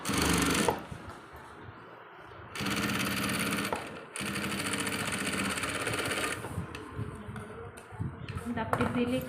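A basic domestic sewing machine stitches with plain thread in a fast, steady rattle, running in a few long bursts with brief pauses, close by, while people talk over it.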